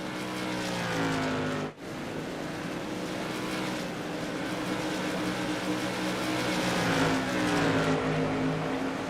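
Modified tour race cars circuit Oran Park Raceway, several engines droning together in a loud, continuous roar with shifting harmonic pitches and a brief dip in level early on.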